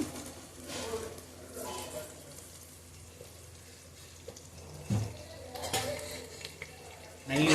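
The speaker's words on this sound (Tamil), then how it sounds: "இப்போ வந்து உங்களுக்கு நெய் ஊற்றிக்கலாம் நெய் ஊற்றிடுவோம்" Ghee poured into mushroom biryani and stirred through it in a pot, with soft scraping and faint sizzling that continue at a low, steady level, plus a sharper clatter near the end.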